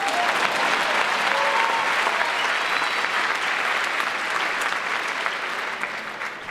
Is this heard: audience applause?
yes